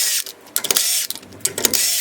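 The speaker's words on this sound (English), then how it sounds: "Now we can finish taking the lug nuts or the wheel nuts off." Wheel nuts spun off a car's rear wheel during a wheel stud replacement, heard as a few short metallic ratcheting bursts with clicks between quieter gaps, close and moderately loud.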